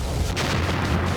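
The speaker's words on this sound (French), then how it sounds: "Wow, quelle explosion!" A single loud, sustained boom-like blast rumbles through the full 1.2 seconds with broad low-end energy, with no talk over it.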